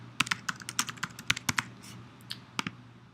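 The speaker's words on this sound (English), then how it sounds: "So I'll just type in the credentials real quick." Login credentials are typed on a computer keyboard in quick, uneven runs of close, crisp key clicks that stop briefly partway through.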